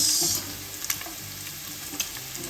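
Garlic and onion sizzle and crackle in hot pork fat while a spatula scrapes and stirs the pan in a few quick strokes, close and steady.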